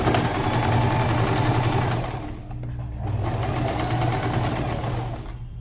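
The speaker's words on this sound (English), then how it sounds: "Somehow the reverse machining of my machine is not working too well right now." A sewing machine runs steadily, loud and close, stitching the seam of a shirt or kurta placket, with a brief slowdown midway before the whirring picks up again.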